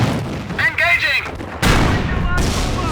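Gunfire and artillery in a Company of Heroes World War II battle, loud and dense, with a sudden heavier blast midway and steady firing after, as a voice shouts over it.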